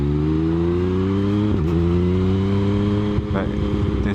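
A 2019 Yamaha MT-07 motorcycle runs steadily under a rider, its engine drone loud and continuous with pitch shifts from gear changes and throttle, while a voice talks over it.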